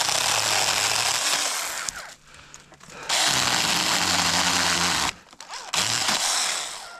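A cordless power saw cuts through material in two long, loud bursts with brief pauses between them, the motor sound dropping away each time it stops, heard up close with no one speaking.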